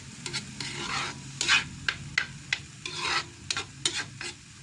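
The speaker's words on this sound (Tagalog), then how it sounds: "Halo-haloin natin to hanggang maluto yung sayote." Chayote sisig stirred in a hot sizzling pan, a utensil scraping and knocking the pan in irregular strokes over a continuous frying hiss, close and clear, with no talking.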